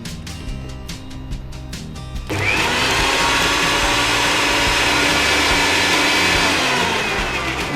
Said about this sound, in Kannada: ಅದೊಂದು 2 ಸೆಕೆಂಡ್ ಗ್ರೈಂಡ್.